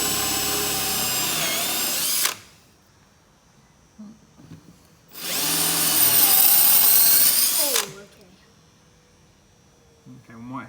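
Step drill cutting through a caravan cupboard panel to make a pipe hole in a Liteweight Panorama 506, two loud sustained bursts of drilling with quiet pauses between, near and alone.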